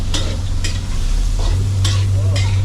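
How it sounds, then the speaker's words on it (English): Squid fries in a boat's galley kitchen, giving a loud, close, continuous sizzle broken by a few sharp scraping stirs of a utensil in the pan, under a steady low engine hum. "Chef cooking squid."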